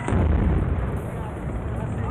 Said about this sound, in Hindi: फिर बम निरोधक दस्ते ने आईडी में धमाका कर आतंकियों की साजिश का अंत कर दिया।